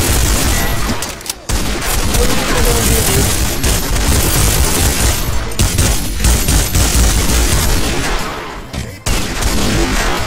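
Video game gunfire comes in dense, loud, continuous bursts, nearly unbroken with a couple of brief gaps, close and harsh throughout.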